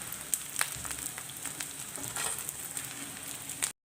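Gond, edible gum, frying and puffing up in hot ghee, a dense close sizzle with faint crackles that stops abruptly at the end.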